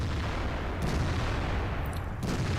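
A British FV304 self-propelled artillery gun in World of Tanks fires amid a dense, rumbling wall of battle noise, loud and sustained, with a couple of sharper cracks breaking through.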